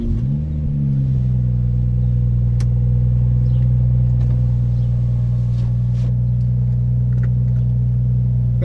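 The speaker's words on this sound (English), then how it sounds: "So let's go ahead and start the drive." BMW 340i with a six-speed manual transmission heard from inside while driving, a loud steady low engine drone that rises briefly at the start and then holds even, with faint cabin ticks and no talk.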